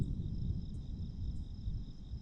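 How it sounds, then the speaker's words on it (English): Crickets chirp at night during a live broadcast of nighttime tornadoes in Illinois, a faint, steady high trill with brief pulsing bursts over quiet low background rumble. "I think you can hear the crickets in the background"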